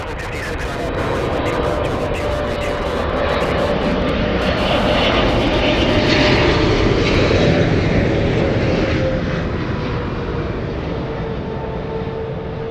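Airliners landing at Los Angeles International Airport produce a loud, sustained jet roar that swells toward the middle and slowly fades, with a steady engine whine over broad rumbling noise.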